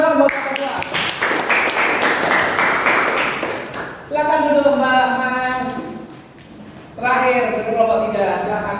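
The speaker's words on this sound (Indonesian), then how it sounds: "Tepuk tangan dong buat kita." Classroom applause during a teaching session: a stretch of many hands clapping together, with voices speaking over and after it.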